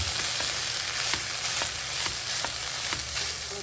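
Onion rice bath stirred in a pan, a constant frying sizzle with a series of soft scraping stirs at an irregular beat, close and fairly quiet, no talking.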